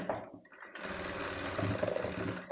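Sewing machine stitching fabric for a frock made from an old shirt: a steady rapid whirring run of stitches after a brief pause near the start, close and alone.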